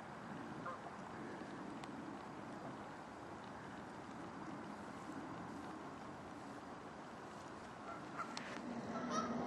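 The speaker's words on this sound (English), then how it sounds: "This goose with the bad wing is one of the regulars here." A goose with an injured wing honks faintly by a river, the calls distant and set against a steady wash of outdoor background noise.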